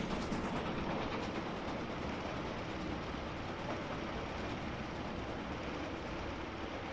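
A Class 111 diesel multiple unit runs along the Falmouth branch in a train simulator game, a steady loud rumble with a rhythmic rolling clatter throughout.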